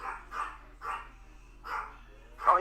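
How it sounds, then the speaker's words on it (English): A bratty pet dog named Apollo barks in short sharp bursts, five spaced yaps over a few seconds, fairly close and loud, with a faint background hum and a person occasionally talking nearby. "It's a very bratty dog."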